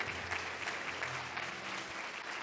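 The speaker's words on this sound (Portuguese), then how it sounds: "Uma salva de palmas aqui para a jovem." An audience at a church gathering claps steadily for a young woman, a dense continuous patter of many hands at moderate distance, with no voices standing out.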